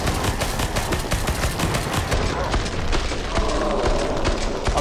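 Dense gunfire from the first-person shooter game Killing Floor 2, with sustained loud rapid shots and booming impacts in a continuous barrage.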